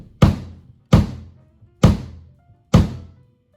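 A tuned kick drum struck four times with a mallet, each a deep, booming thud with a short decay, evenly spaced and close, with no other sound around the hits.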